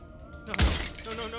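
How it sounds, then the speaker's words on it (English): Glass shatters in the video game Slay the Princess, a single sharp crash with a bright ringing tail of scattering shards, following a brief moment of quiet. "his pleas disappear at the sound of breaking glass"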